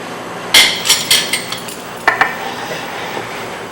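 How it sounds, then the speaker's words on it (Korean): Sharp clinks and taps of utensils against a dish while beef tartare (yukhoe) is being plated, a quick cluster of bright hits followed by a second pair and fainter scattered touches. "이렇게 해서 둘레를 쭉 돌아가면서 재료를 담아 주시도록 하는데"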